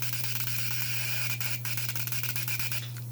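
Mazda RX7 street-port fuel injector being pulsed during cleaning, producing a close, steady hissing spray with rapid faint clicking under a constant low hum.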